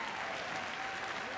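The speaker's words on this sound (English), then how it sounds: "let's give her a big round of applause and cheer her on at the end there" A large indoor crowd at Crufts 2012 claps steadily for a rescue dog finishing an agility round, with dense, continuous applause and a voice faintly audible beneath it.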